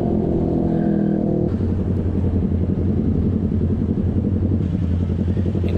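Motorcycle fitted with an Akrapovic exhaust still using its baffle, a steady, fairly smooth engine drone heard up close while riding, with a low rumbling note and a slight shift in tone partway through.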